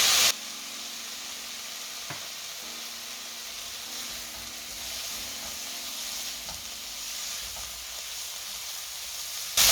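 Vinegar and green chili sauce sizzling in a hot pan of veg fried rice with burnt garlic, a steady bright hiss with faint stirring clicks, close and continuous.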